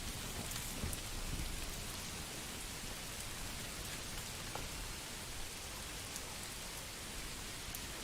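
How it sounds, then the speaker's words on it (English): Steady rain pours in Manor Lords, a continuous even hiss with scattered drop taps and no voices. "It's raining."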